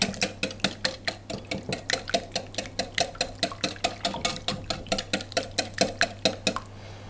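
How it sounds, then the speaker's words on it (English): A whisk beats eggs in a bowl for wholegrain cranberry muffins, with quick, evenly spaced metallic clinks, about four per second, close and crisp throughout with no talk. "I'm just going to break the eggs up and mix that together"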